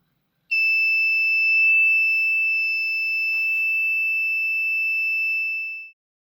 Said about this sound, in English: If the alarm is triggered, the buzzer will start and will be disabled when the alarm state ends.